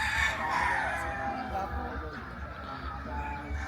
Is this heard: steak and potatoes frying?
no